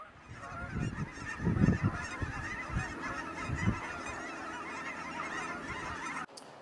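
A flock of Canada geese honking repeatedly, overlapping calls in an uneven chorus, moderately near, over a steady outdoor background.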